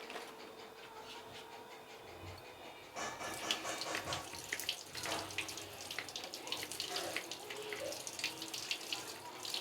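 Tap water runs over white hulled sesame seeds being washed, first a softer trickle, then a louder, fuller rush with splashing and stirring, nearby and without speech.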